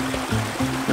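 River water flows and burbles steadily at a riverside pool in a valley of the Scenic Rim, Australia, close and continuous with a gentle pulsing rhythm.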